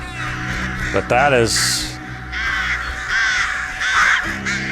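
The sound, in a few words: crows cawing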